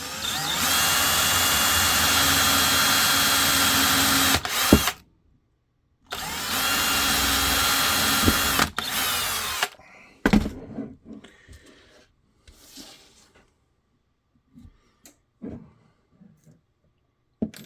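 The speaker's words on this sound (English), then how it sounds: "And then I'll drill this side." Power drill boring into a foam-press holster mould for an FN 545 with a Baldr S light, running loud and steady in two long bursts separated by a short pause, followed by quieter handling clatter.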